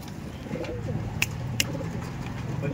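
Pigeons kept at a workplace loft, soft low cooing running steadily through the clip with faint bird rustling and two sharp brief clicks, close and moderately loud, no talking.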